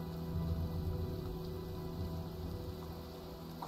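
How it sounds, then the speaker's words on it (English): Steady heavy rain pours in a stormy scene from the video game Heavy Rain, a dense, continuous wash of drops with no voices over it. "Well, looks like a storm."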